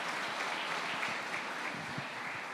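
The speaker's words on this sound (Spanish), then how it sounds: "Vamos a dar un aplauso a las mamás," A church congregation applauds the mothers during a Mother's Day service, soft steady clapping heard from a distance, even and continuous without talk.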